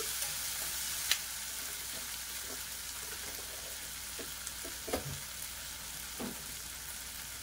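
Carrot and tomato curry with ginger-garlic paste and green chillies cooks in a pan, giving a steady soft sizzle with a few faint utensil clicks and scrapes, no talking.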